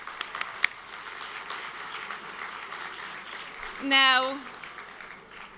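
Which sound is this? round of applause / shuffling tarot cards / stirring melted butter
round of applause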